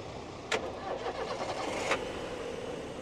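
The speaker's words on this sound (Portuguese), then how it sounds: "o amigo vai dar partida aqui para a gente escutar o carro aqui funcionando" A Fiat Palio engine cranks and catches, with sharp clicks at the start and end of a short churning start-up, moderately close.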